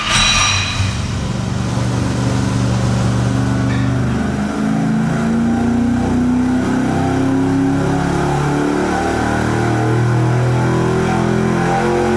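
A V8 car engine on a dynamometer revs through a full pull, its loud steady roar climbing in pitch across the run and holding strong to the end, with no talking over it.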